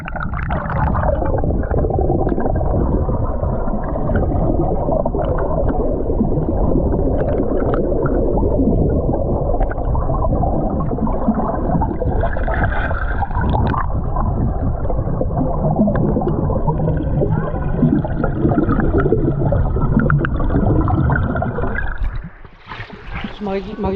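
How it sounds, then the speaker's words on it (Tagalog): Water gushes and churns under a rock in a forest during a camping trip, making a loud, continuous, close-up gurgling roar that persists for the whole clip. A sharp disturbance near the end briefly cuts into it. "papakita natin sa inyo yung bumubulwak na tubig dito sa ilalim galing sa ilalim ng bato"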